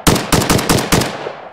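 Rapid semi-automatic fire from a WBP 5.45mm AK74-style rifle, about five loud, sharp shots in quick succession, close up, followed by a short ringing decay.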